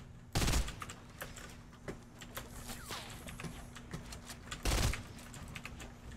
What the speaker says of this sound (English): It shoots, this gun shoots kind of slow.